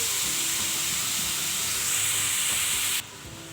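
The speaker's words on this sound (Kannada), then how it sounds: "ಅದು ಫ್ರೈ ಆಗ್ತಾ ಇರಲಿ" Fish curry masala sizzles steadily in a hot pan, a dense close frying hiss that holds for about three seconds before dropping abruptly to a quieter simmer.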